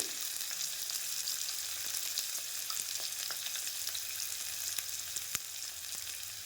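Curry leaves sizzle in hot oil for a vegetable pulao, a continuous soft crackle with sharp pops and spits scattered throughout, fairly quiet and with no talking.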